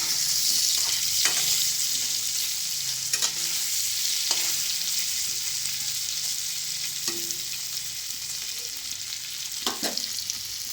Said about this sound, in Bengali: পনিরটা একটু ভাজা করে নেব লাল লাল করে।